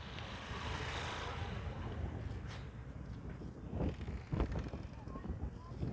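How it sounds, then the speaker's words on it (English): Gusty wind buffets the microphone outdoors along Newcastle Street in Kissy, Sierra Leone, in a steady low rumble, with faint traffic and occasional thumps. "It is a very, very windy day today, as you guys can hear"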